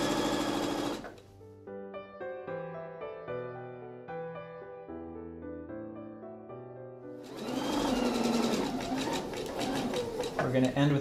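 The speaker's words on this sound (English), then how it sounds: "I'm going to continue sewing with a 1/4 inch seam." A sewing machine runs in loud bursts of rapid whirring at the start and again toward the end, stitching a quarter-inch seam in pyjama bottoms. A sustained musical passage fills the quieter middle section.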